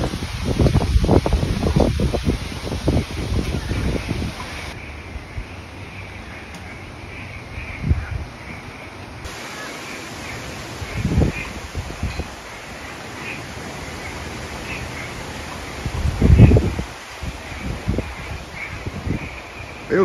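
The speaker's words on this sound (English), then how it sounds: "That's some gust I'm talking about." Strong gusts during Hurricane Debbie, a Category 1 storm in Jacksonville, Florida, roar through trees in the early morning, with bursts of rustling leaves rising and falling over a steady windy background and crows cawing in the distance.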